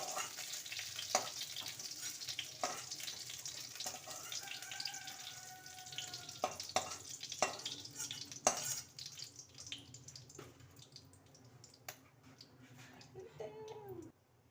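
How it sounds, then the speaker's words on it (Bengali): Pointed gourd slices sizzle in hot oil in a kadai, a steady frying hiss broken by scattered clinks and scrapes of a utensil lifting them out; no talking. "আমার পটল ভাজা হয়ে গেছে এবার আমি পটলগুলো তুলে নিয়েছি"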